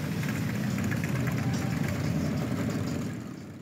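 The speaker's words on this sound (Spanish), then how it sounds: "Con el sonido de los motores Harley Davidson, llegamos a Santa Marta" Harley-Davidson motorcycle engines rumble steadily at a rally in the Caribbean, a dense, continuous low-pitched throb that holds loud and even before easing off slightly at the end, with no talking.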